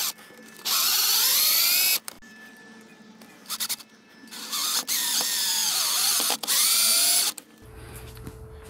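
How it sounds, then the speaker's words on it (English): A power drill bores holes into an entry door frame to mount a reinforcing strike plate, running in three loud, steady bursts of whining spin separated by short pauses and small handling clicks, with no talk. "then you can just drill 2 holes right in"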